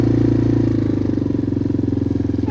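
A 1988 Yamaha Moto 4 ATV engine idles steadily on a freezing cold day, running off choke with a loud, even, throbbing pulse that holds throughout.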